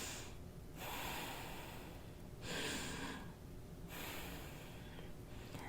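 Slow deep breaths in a stress-management breathing exercise, three long airy inhale-exhale cycles with short pauses between them, faint and close with no talking.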